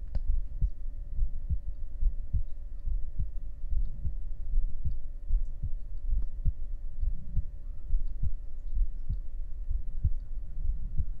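An amplified human heartbeat thumps in a slow, steady rhythm of soft, close, low pulses, with a faint constant hum underneath and no talking.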